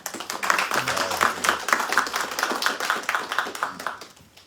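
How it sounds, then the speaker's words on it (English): Audience clapping for children who decorated a Ram Navami altar at a home celebration in New York, a steady patter of many hands lasting several seconds at moderate distance, with faint voices underneath before it tapers off. "Big clapping for them"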